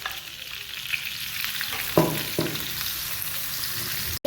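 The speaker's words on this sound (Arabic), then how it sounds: "نغلي اللحم تاعي مع السمن، نغليه مليح مليح فوق النار" Meat frying in ghee in a pot over the heat, a steady close sizzle with a couple of sharper crackles and a stirring clatter partway through.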